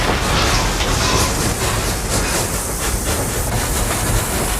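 A light steam locomotive passenger train runs along the track with a steady, loud hiss and rumble, a faint rhythmic clatter of wheels running underneath throughout.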